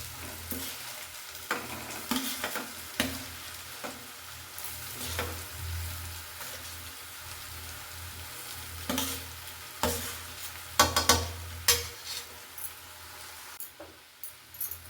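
Coriander leaves stirred into hot tempering oil in a home kitchen, giving a steady soft sizzle and frying hiss with repeated scraping stirs throughout and no talking.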